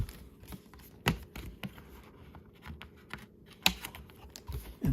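A Battle of Torgau board game box insert being folded up and over by hand, giving a scattered run of light, dry cardboard taps and clicks, close up and fairly quiet, with a few sharper snaps.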